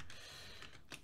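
Quick, light keystrokes on a computer keyboard set up to run the WinUAE Amiga emulator, faint and continuous under a low hiss, with a brighter clack near the end.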